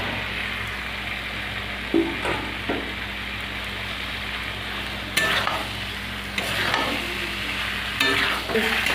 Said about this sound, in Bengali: আলু দিয়েও আমি ভালো করে কষিয়ে নিয়েছি